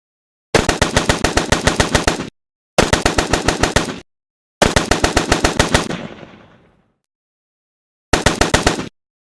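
Rapid automatic gunfire effects from a shooter-system weapon in a video game play in three loud sustained bursts; the third ends in a fading tail, and a short fourth burst follows after a pause.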